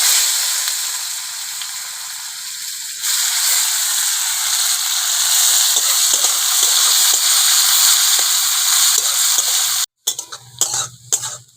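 Chopped onion hits hot oil while cooking a spicy crab curry, bursting into a loud, steady sizzle that holds for several seconds, followed by scraping and clattering stirring near the end.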